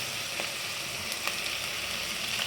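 Food fries in a pan with a continuous, even sizzle and crackle, close and moderately loud, with a few faint clicks and no talking.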